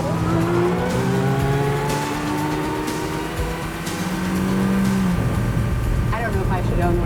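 A powerful Ferrari engine roars and climbs through revs under open throttle, loud and near, with tire noise and people talking over the engine.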